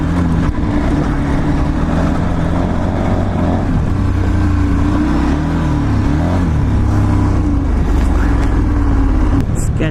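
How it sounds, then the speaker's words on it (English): Dual sport adventure motorcycle engine droning steadily while riding, a loud low hum with wind rush throughout and shifting tones, no speech heard. "This is why I love dual sport and adventure motorcycles."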